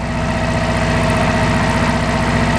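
A repaired power hammer runs with a loud, steady mechanical drone and a fast, even pulsing beat, close and continuous with no voices.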